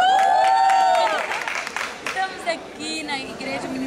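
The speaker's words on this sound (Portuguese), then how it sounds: "me dá um aplauso" Applause and cheering from a church worship crowd at a gospel event, broad and loud at first, then thinning into scattered claps and whoops while someone speaks over it.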